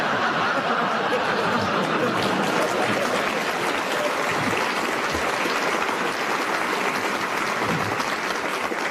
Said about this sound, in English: A very good challenge that got its well-deserved round of applause